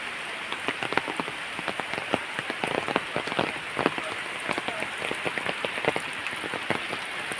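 Heavy rain falls steadily beside an overflowing stream, a dense continuous hiss with scattered louder drop impacts, close and unbroken throughout, with no voices.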